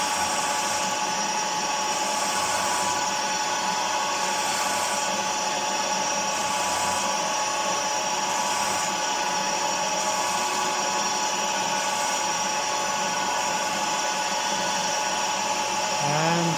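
A milling machine center-mills metal, whining steadily and loudly throughout, a continuous high-pitched motor and cutting drone with no pauses.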